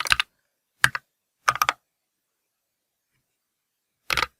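Short bursts of typing on a computer keyboard as code is entered, four quick clusters of clicks separated by silent pauses, close and fairly quiet.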